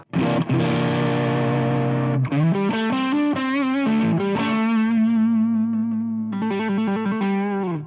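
Distorted electric guitar through a NUX NME-5 Trident multi-effects unit, sustained chords and single-note lines ringing loud and saturated with a slight chorus shimmer, played alone.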